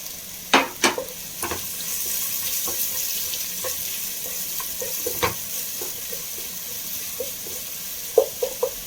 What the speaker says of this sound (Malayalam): അത്യാവശ്യം വലിപ്പമുള്ള ഒരു സബോള അരിഞ്ഞതിട്ട് കൊടുക്കുന്നുണ്ട്. അതൊന്ന് വഴറ്റിയെടുക്കാം.